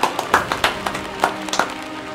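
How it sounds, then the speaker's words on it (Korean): Scattered, sparse handclaps from an audience applauding the winner at the ASL Season 6 final, a handful of distinct claps spaced irregularly with no voices. "뜨거운 박수를 보내주십시오."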